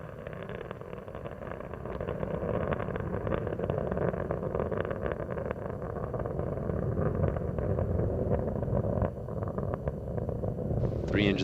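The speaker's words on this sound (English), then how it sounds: "Three engines on Endeavour are now throttling back to 2/3 throttle" The three main engines of Space Shuttle Endeavour roar during launch, a steady, dense rumble that holds for the whole span while an announcer talks over it.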